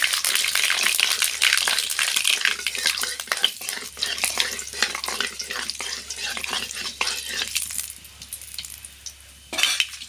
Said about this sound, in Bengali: তেল গরম হয়ে গেছে, এবার দেবো সর্ষে।